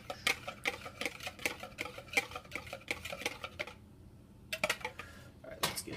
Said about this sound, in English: You mix it again to make sure the pepper and salt get in there for taste.